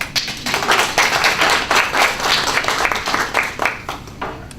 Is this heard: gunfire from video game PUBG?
no